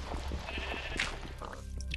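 Farm livestock bleat in the TerraFirmaCraft video game, several short sheep-like bleats in quick succession over a low steady background hum, fairly faint, with no talk.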